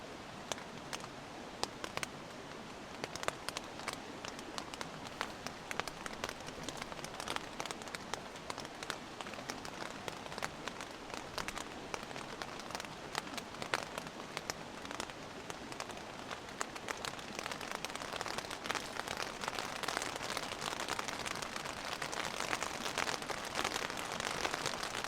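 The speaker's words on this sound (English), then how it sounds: "I'll leave you to listen to the sound of the rain." Heavy rain pours steadily onto a camping tent and tarp, a dense, constant patter close by that grows slightly louder toward the end, with no voices.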